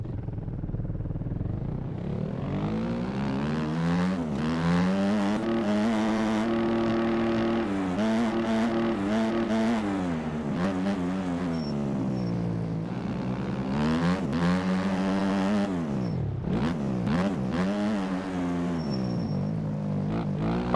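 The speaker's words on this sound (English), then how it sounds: "here we are on the Kawasaki 250 OEM" Kawasaki 250 OEM dirt bike engine in MX Bikes, droning steadily throughout, its pitch climbing and falling with repeated revs and gear shifts, with sharp dips around corners and no talking.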